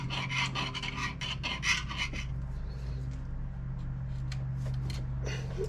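A threading die cuts threads onto a steel rod with a series of rough rasping strokes, close and distinct at first, then thinning into fainter scrapes over a steady low hum.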